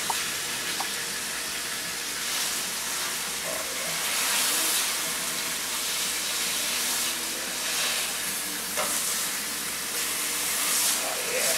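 Meat browning in a hot pan for a Thanksgiving dinner gives off a steady, loud sizzling hiss that swells and eases slightly, with almost no talk.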